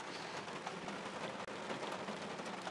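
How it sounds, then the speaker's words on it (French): Rain falling during a small Sunday thunderstorm, an even, faint wash of hiss with no breaks and no voices. "on a quand même un peu l'orage, il pleut"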